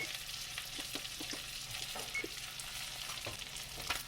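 Blackened salmon frying in a pan, a continuous close sizzle with sharp spitting pops scattered throughout, alone without any voices.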